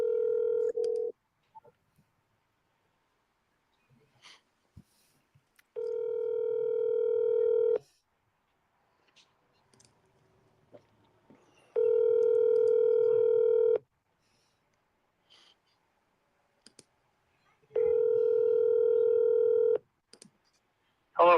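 A phone line rings while calling a real estate agent, giving steady two-second tone bursts repeated about four times at even intervals, separated by near silence with faint clicks.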